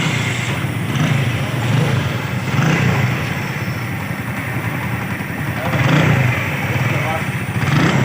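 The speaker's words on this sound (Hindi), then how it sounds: "गाड़ी स्टार्ट हो चुकी है।" A 70cc motorcycle engine runs steadily after being repaired and started, a close, even idle with low rhythmic pulsing and slight swells in engine speed, while people talk over it.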